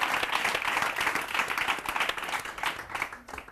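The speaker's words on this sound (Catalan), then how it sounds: "Ella s'emporta un fort aplaudiment, sí?" Studio audience applause on a Catalan TV word quiz show, a dense steady burst of many hands clapping that tapers off near the end.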